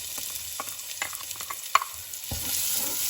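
Onions sizzling in caramelized sugar in a pot for Krautfleckerl, a steady close fry hiss broken by stirring clicks and one sharp utensil tap, no one speaking.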